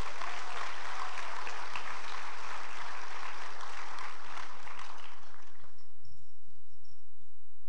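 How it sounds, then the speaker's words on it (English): Audience applause at a high school senior awards ceremony, a dense wash of clapping that holds steady for about five seconds, then thins to scattered claps and fades out. "Give them another round of applause"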